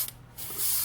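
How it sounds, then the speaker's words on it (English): An airbrush sprays paint in a short hiss that starts softly and swells louder toward the end, close by and with no talking. "When it doesn't want to paint, you just simply spray it on something other than that, and then get it going."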